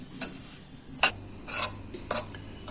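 A spoon taps and scrapes inside a pan while a sweet karanji filling is stirred and mixed. Four or five light, close clinks come at uneven intervals over a soft background hum, with no one speaking.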